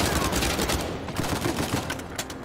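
Gunfire in the video game Uncharted 4, a dense, continuous clatter of rapid shots and bursts that stays loud and close throughout.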